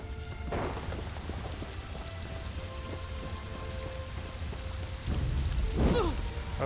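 Steady rain summoned by a character in Elder Scrolls Online hisses across the whole scene, with low rumbling swells near the start and again toward the end, sounding broad and continuous.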